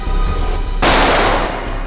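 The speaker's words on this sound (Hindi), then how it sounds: "सर हम लोग गोली की आवाज सुनकर बहुत डर गए थे कि पता नहीं उसने किस पर और क्यों गोली चलाई।" A single loud gunshot bursts out in a TV crime drama scene, an abrupt broadband blast that fades over about a second against a background hum.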